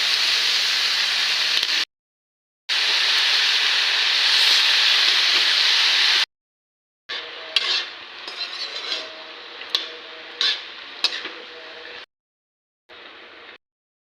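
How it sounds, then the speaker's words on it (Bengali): Spinach frying in a pan with salt, a steady hissing sizzle broken by short gaps, later joined by sharp clinks and scrapes of a spoon against the pan. "দিয়ে দেবো পালং শাক, একটু ভাজি করে নেবো পালং শাকটাকে"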